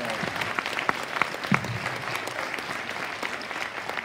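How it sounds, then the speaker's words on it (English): Audience applause for an authors' panel at the 20Books Vegas 2018 conference, a steady wash of many hands clapping for the whole stretch, fairly even and moderately loud. "So let's hear a round of applause"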